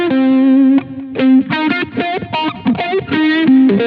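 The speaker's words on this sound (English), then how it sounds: "I'm using the Terra Echo effect." A distorted rock lead guitar runs through a Boss GX-100 multi-effects unit with the Terra Echo effect. A long held note leads into a quick run of picked notes with echo trailing behind, loud and up front.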